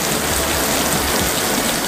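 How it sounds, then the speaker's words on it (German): Steady rain falls continuously, a dense even hiss of drops hitting surfaces close by, with no voices and no thunder. "Es regnet."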